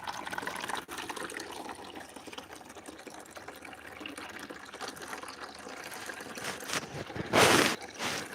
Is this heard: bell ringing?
no